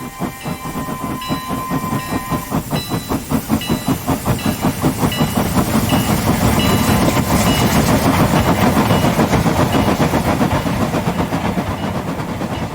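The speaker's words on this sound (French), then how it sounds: "Le train quitte la gare" A steam train chuffs rhythmically as it pulls away, the puffs quickening and blending into a loud, steady rumble with hissing.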